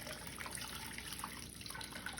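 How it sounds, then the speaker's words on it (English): Warm water runs steadily from a kitchen tap while bread dough is being started, a soft continuous hiss and trickle with no talking. "We're gonna start with 6½ cups of warm water."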